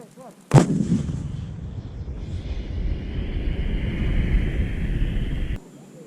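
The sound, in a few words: 155 mm cannon firing during army artillery practice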